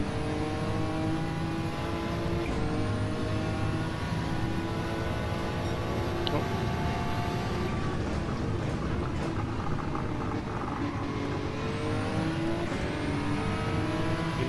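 Race cars in Gran Turismo 7 roar at high speed, a loud continuous engine drone with repeated upshifts, revving and rising pitch as cars run close together.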